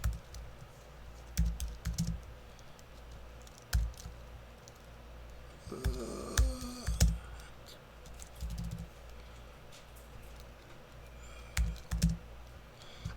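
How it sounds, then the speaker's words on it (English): Keys tapped on a Ukrainian-layout computer keyboard in slow, uneven pecks, small clusters of near clicks with pauses between them over a low room hum. "And I got a Ukrainian keyboard."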